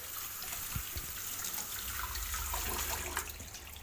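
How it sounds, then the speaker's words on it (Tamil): Water runs and trickles in a quiet, steady wash as a stove counter is wiped clean with plain water, with a few soft knocks and splashes. "நல்லா வந்து தண்ணியை மட்டும் வச்சு தொடச்சி எடுத்துருவேன்"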